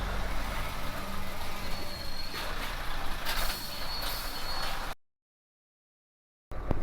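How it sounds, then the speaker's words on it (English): A truck's engine rumbles steadily close by as it pulls in to park beside another truck at a truck stop, with a brief hiss of air before the sound cuts out. "We are going to park just here, next to this truck."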